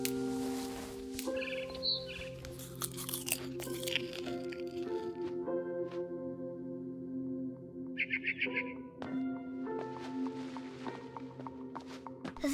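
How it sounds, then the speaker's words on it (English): Barn swallow chirping outside a window in What Remains of Edith Finch, heard as a few quick high bird calls mixed with squishy, crunchy sounds and sustained tonal background notes. "Then I heard chirping outside my window."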